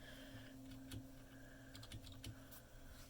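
Typing on a Royal Kludge RK61 mechanical keyboard gives a few quiet, scattered key clicks close to the mic over a faint steady hum.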